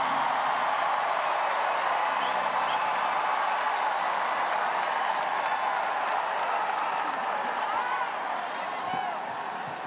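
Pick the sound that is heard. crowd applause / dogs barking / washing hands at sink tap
crowd applause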